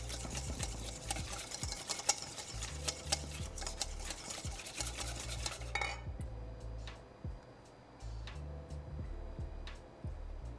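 A whisk scrapes around a bowl as warm lemon-ricotta soufflé sauce is added gradually to egg yolks, giving quick, rhythmic metallic stirring clicks close to the microphone, with a short pause partway through before stirring resumes.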